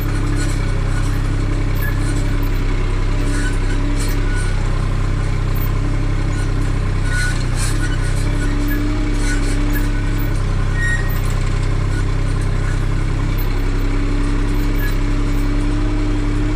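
A New Holland TT4.65 tractor's diesel engine runs steadily after camshaft and injection pump adjustment, a loud, close, continuous low rumble with an even, unbroken drone throughout.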